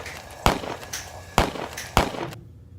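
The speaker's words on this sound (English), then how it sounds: "Was that gunshots?" Three sharp, loud bangs ring out about half a second to a second apart, each with a quick decay, followed by near silence.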